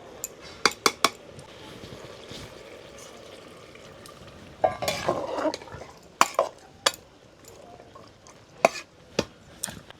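Peas and country chicken are stirred in a pan with a metal spatula, giving repeated sharp scrapes and clinks in an uneven rhythm over a faint sizzle, close and fairly loud.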